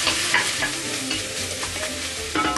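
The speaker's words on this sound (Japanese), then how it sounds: "これで玉ねぎがちょっと透明になってくるので炒めます" Potatoes, carrots and onions stir-fried in a pan, a continuous close sizzle broken by scraping turns of the spatula, no voices.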